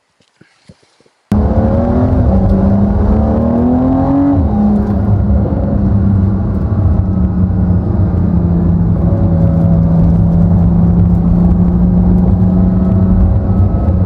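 A 443-horsepower rear-wheel-drive sports car starts up and drives off, its engine note rising and settling into a steady, fairly loud drone close by for the rest of the run, with no talking.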